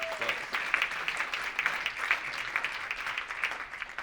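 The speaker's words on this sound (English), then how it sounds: "Give her a round of applause." Audience applause at a civil rights candidate forum, a steady wash of clapping at moderate distance lasting several seconds, with a few faint voices underneath.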